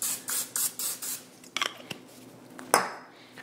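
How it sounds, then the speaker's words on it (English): Cooking spray hissing into a mixing bowl while making cast iron cinnamon rolls: several short rhythmic spritzes, then a few faint clinks and one sharper burst. "You may need to spray your bowl again."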